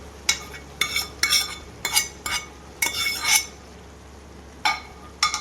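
A spoon stirs mushroom gravy with curry leaves in a pan, making repeated scraping strokes and clanks against the metal in uneven bursts, close and clear over a steady low hum.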